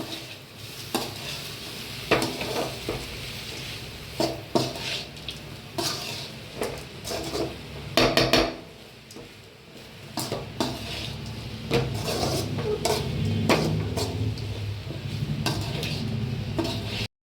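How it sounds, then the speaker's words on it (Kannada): Avarekai palya gets stirred in a pan on low heat, a spoon scraping and clinking against the metal in irregular bursts over a soft, continuous sizzle, with no voices. "ಇವಾಗ ಸ್ಲೈಟಾಗಿ ಸಿಮ್ ಮಾಡಿಕೊಂಡು ತಿರುಗಬೇಕು"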